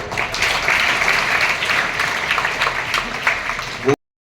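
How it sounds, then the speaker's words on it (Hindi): Seminar listeners at an exam-stress motivational session break into loud, continuous applause with voices mixed in, the clapping holding steady before cutting off abruptly into silence. "आप सब उनका तालियां बजा के अभिवादन"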